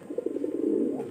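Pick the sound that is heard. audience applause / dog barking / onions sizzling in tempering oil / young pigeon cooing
young pigeon cooing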